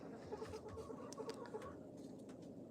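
Rhode Island Red hens cluck softly in short, scattered bursts, close by and steady across the stretch, with no talking.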